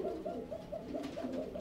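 A pair of magpie pigeons kept in a cage coo steadily in repeated soft, low rolling calls, close by and continuous, with no talk.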